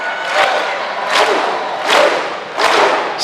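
Volleyball arena crowd performing a Viking clap at a men's college match, four loud, evenly spaced unison claps with a low boom each, roughly every 0.8 seconds, over a constant crowd murmur.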